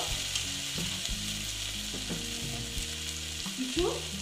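Jackfruit and potato pieces sizzle while frying with turmeric in a pan, a steady crackling hiss with stirring scrapes and clatter close by.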